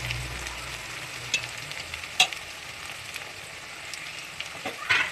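Chopped green chilies sauté in hot oil in a pan with onion for spicy Kanthaari chicken, giving a steady close sizzle with a few soft stirring clinks and scrapes.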